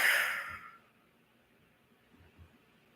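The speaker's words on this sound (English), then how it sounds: "breathing in and out" A slow, full exhale during guided relaxation breathing, a soft breathy rush that fades out over about a second, followed by near silence.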